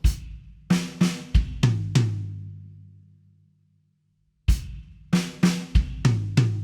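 Drum kit playing a 7/4 groove from a song: kick and snare hit in quick bursts, then a long decaying ring and a pause before the pattern comes back, loud and close with no voice.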